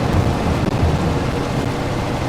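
A rain shower in Farming Simulator 22, heard as a steady, low rumbling wash of rainfall with no distinct drops, continuous and fairly loud for its short length.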